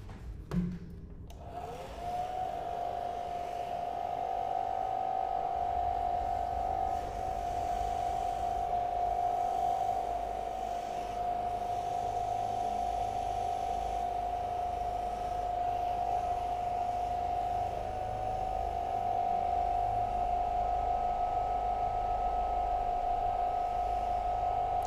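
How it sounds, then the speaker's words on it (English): Hair dryer blowing steadily in World of Warcraft, a constant whirring drone with a bright tonal whine that holds nearly unchanged for the whole stretch, loud and close with no talk over it. "It's my hair dryer."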